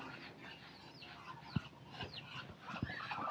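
Chickens cluck in a brief, quiet scatter of calls, with a couple of sharper thumps and rustles around them amid steady background noise.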